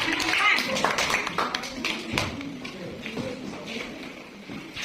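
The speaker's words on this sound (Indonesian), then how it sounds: "tepuk tangan buat kelompok 5" A primary school class applauds group 5 in a classroom lesson, with scattered, uneven claps starting fairly strong and thinning out over several seconds amid children's voices and shuffling.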